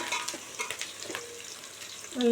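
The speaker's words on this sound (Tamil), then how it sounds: "கொஞ்சம் நல்லா ப்ரௌன் கலராக வர்ற அளவுக்கு நம்ம வதக்கி விட்டுக்கலாம்." Onions sautéing in a pan until brown for a mushroom biryani, a steady close sizzle with scraping stirs throughout the short stretch, no voices.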